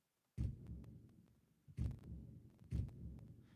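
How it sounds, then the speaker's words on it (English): Stomp percussion sample, a foot stomp with EQ applied, hits three times at a slow, uneven pace. Each hit is a deep, booming thud that decays into a low rumble, heard alone. "This was the stomp I used."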